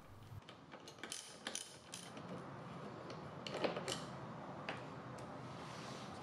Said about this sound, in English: Remove the two 5mm Allen screws from the base of the top shelter.